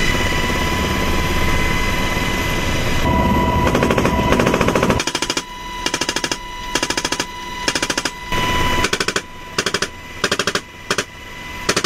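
Loud bursts of door-gunner machine gun fire from a UH-60 Black Hawk helicopter in rapid, repeated volleys over the steady thrum of the helicopter nearby, with short pauses between bursts, during US Army aerial gunnery training.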